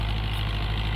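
A tractor engine idles steadily at close range, a continuous low rumble with an even throb and no voices.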